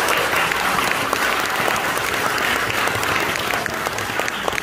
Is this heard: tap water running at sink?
no